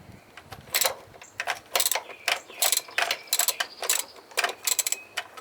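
Rapid ratchet clicking in short repeated bursts as bolts are threaded out on a BMW M52/M54 engine's throttle body, close and fairly crisp with brief pauses between strokes.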